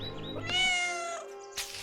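A cat meows in one long, drawn-out tonal call with a rising then falling pitch, close and clear, followed by a brief breathy sound at the end, with no talking.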